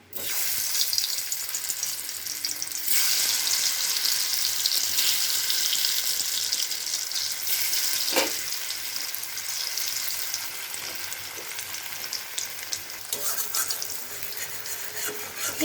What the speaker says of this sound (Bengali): কড়াই গরম হয়ে গেছে আলুগুলো ভেজে নিই